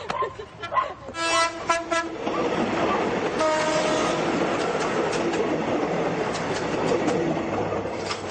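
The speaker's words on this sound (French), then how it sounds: "Attention, il y a un train qui arrive derrière." A train comes up from behind in the Philippines, its horn blaring in repeated loud toots early on over rumbling wheels and clatter that stay loud throughout. People's voices are faintly audible.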